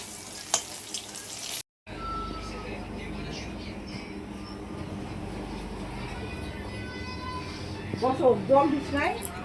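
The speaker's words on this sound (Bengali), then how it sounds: "কাকরোল ভাজা" Spiny gourd (kakrol) frying in a pan in a home kitchen, a steady low sizzle running under people talking, with a short gap near the start and louder clatter and voices toward the end.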